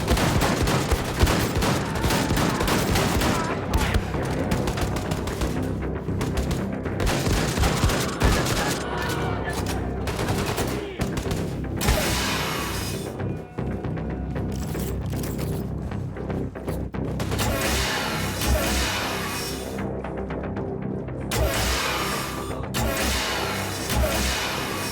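Dense, nonstop gunfire in a video game, shots and explosions piling on each other for the whole stretch with hardly a break.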